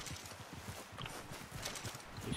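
Horse hooves clip-clop at a steady walking rhythm in the video game Red Dead Redemption 2, fairly close and moderately loud against a busy in-game background.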